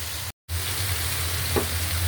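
Fish fry in a pan with a steady, loud, hissing sizzle, broken by a brief dropout near the start.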